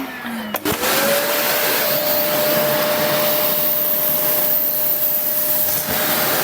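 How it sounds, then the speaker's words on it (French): A vacuum cleaner switches on and runs in a steady loud whine and roar while sucking up debris during a home cinema build, the pitch settling after startup. "je vais y aller avec l'aspirateur"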